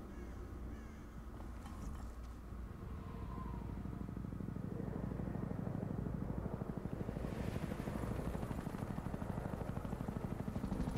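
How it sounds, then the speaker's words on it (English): In the Gears of War video game, a helicopter's rotor chop builds from a low rumble into a steady, rapid thumping that grows louder as it passes overhead amid background game ambience. "Is there a chopper, I guess?"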